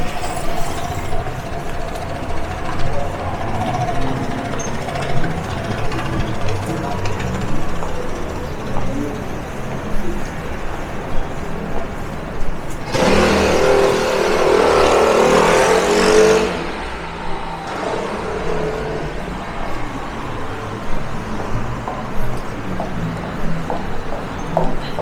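Traffic on a Paris street at night: a continuous rumble of engines with cars passing, and one louder vehicle surging close by for a few seconds midway before fading back into the distant flow.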